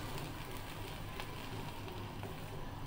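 Pulao with meat stirred in a pot, a continuous close sizzle with gritty scraping of grains and a few soft knocks of the spoon, steady throughout with no talking.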